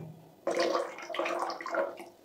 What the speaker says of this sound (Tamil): இதில் வாட்டர் எவ்வளோ வருது பாருங்க